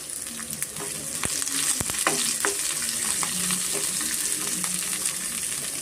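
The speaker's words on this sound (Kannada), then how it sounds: "ಶುಂಠಿ ಮತ್ತು ಆನಿಯನ್ನು ಚೆನ್ನಾಗಿ ನಾವು ಫ್ರೈ ಮಾಡ್ಕೊಬೇಕಾಗುತ್ತೆ" Ginger and onion frying in a pan for a sprouted horse gram sambar, a continuous close sizzle with scattered scraping and clicking from a stirring spoon.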